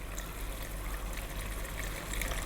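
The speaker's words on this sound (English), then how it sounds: "What we're going to do now is we're going to slowly start to add some water." Water is slowly added to a pot of Ethiopian beef and potato stew, making a faint, steady trickling pour that runs throughout with no talk.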